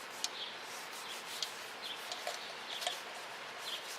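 Soot being scrubbed off wet titanium camp cookware, a steady close rubbing hiss broken by small squeaky scrapes at irregular intervals, with no talk.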